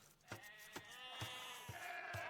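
Sheep in an Age of Empires match give a series of short bleats, about five evenly spaced calls over a steady bed of game ambience and music, fairly quiet.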